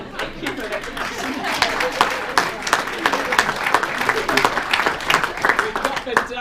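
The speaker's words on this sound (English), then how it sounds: "We got the double clap." An audience at a book launch about overcoming mental illness applauds with sharp, uneven claps that build into a lively round, with voices and talk mixed in.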